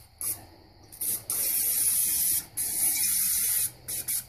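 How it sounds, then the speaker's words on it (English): Pam cooking spray hisses in several short and long bursts onto the bottom of a pan for brownie bowls, close and fairly loud with brief pauses between sprays. "spray the bottom with Pam spray"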